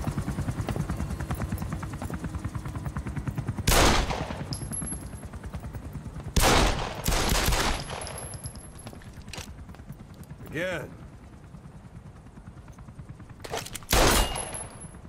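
Automatic gunfire in the video game Metal Gear Solid V: several short, loud bursts of shots break through a steady droning background, with quieter stretches between them.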